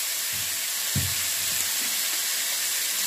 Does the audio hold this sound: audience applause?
no